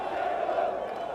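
Botafogo fans cheering in a stadium after tearing down the fence, a steady distant roar of a large crowd shouting without break.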